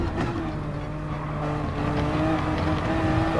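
LMP1 prototype race cars, including a Toyota and a Mazda, lap Le Mans in the video game GT Sport, with loud overlapping engine whine and shifting revs from several cars at once, continuous and close.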